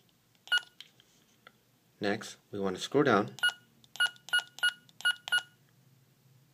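Wolfcom police body camera buttons being pressed through its menu: a short series of crisp electronic beeps, first one, then a steady run of six evenly spaced beeps, with someone speaking briefly in the middle.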